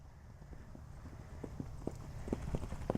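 Horse hooves clip-clopping in a steady cantering rhythm, the beats growing slightly louder and firmer toward the end, close by with low background rumble and no talk.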